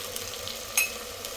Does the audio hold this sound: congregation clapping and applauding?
no